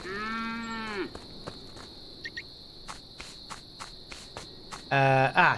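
Cows in the cooking game Epic Chef give two drawn-out moos, one at the start and another near the end, over a steady chirping of crickets in the background.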